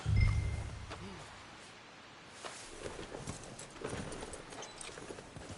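Horse walking in Red Dead Redemption 2, its hoof clops and steps scattered and uneven over a low game ambience, moderately close, with a faint jingle of tack.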